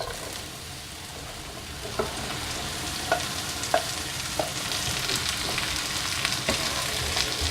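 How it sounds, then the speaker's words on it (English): Vegetables fry in a skillet with browned garlic, a soft continuous sizzle broken by occasional clacks of a utensil stirring the pan, moderately quiet and without voices. "We're going to cook the vegetables for about 7 minutes. Stirring and not stirring."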